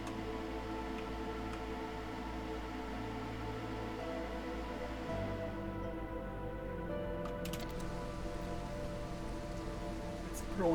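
Drizzle falling in the video game Against the Storm, a steady, even patter of rain with a soft hiss underneath, holding at a constant level throughout with a few faint clicks.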